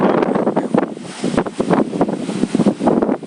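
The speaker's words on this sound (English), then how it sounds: "nothing can stop the strength of the sea and the wind" Strong sea waves crash and churn against a rocky beach while gusty wind buffets the microphone, a loud, continuous roar with surging bursts and no talking.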